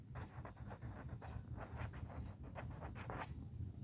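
Pen writing by hand on paper while an accounting trial balance is worked out, a steady run of short scratchy strokes close by over a low background hum, with no talking.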